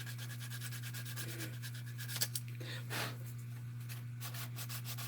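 A custom one-off scale-model part is sanded by hand in brisk, repeated rubbing strokes over a constant low electrical hum. The strokes are close but fairly quiet, with no talking.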